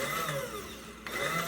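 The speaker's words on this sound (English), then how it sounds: "Now we're going to put our blender in there" An immersion blender whirs in hollandaise sauce, a loud steady motor whine with pitch dipping briefly as the blade meets thickening egg and butter.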